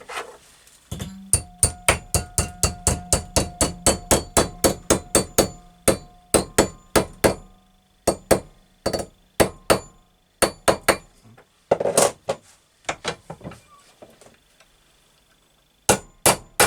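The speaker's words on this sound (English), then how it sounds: "we'll use the hammer just to bend it over 90 degrees" Loud, rapid metallic hammer blows bending a metal bracket 90 degrees in a vise ring out in a steady series, then slow to scattered strikes with pauses between them.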